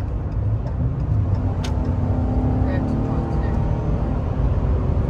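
A 2018 Dodge Ram 1500 Big Horn 4x4 crew cab pickup cruising at highway speed around 65 mph, heard from inside as a steady, loud low engine and road drone, with faint talk underneath.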